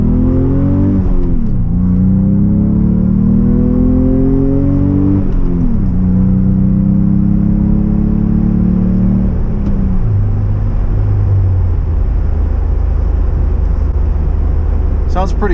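A 2024 Ford Bronco with a 2.3L four-cylinder and Roush exhaust revs hard through several rising gear pulls, each sweep climbing then dropping at the shift, loud and close, before settling into a low steady drone.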